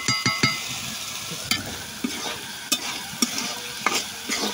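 Fish pieces fry and get stirred in a pan with spices, a continuous sizzle broken by sharp, irregular spatula clacks against the pan, close and fairly loud.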